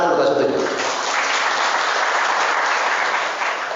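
An audience in a talk or lecture hall bursts into applause, a loud, dense clatter of many hands that starts at once and holds steady for nearly four seconds with a slight tail at the end.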